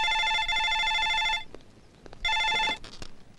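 An old-style telephone bell rings loud and close in two long bursts separated by a short pause, with faint room noise between the rings.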